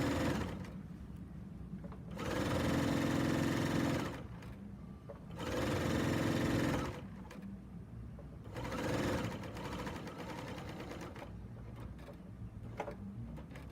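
A serger stitches quilt binding in three sustained bursts of steady mechanical whirring, each about two seconds long, separated by quieter pauses of fabric handling, all close and fairly soft.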